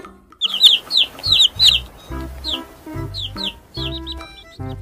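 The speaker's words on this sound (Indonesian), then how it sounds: "ini ada hewan yang namanya anak ayam" High, rapid cheeping of chicks in quick bursts over a rhythmic bouncy music backing.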